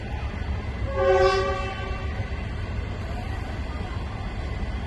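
A train horn sounds once with a steady tonal blast over the continuous low rumble of a passing train on the Laos-China railway, moderately loud and fairly near.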